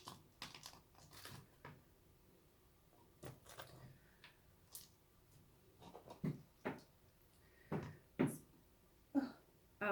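Dog's tail wagging and thumping against a door, a series of faint, irregular soft knocks in a quiet room that come quicker and louder toward the end.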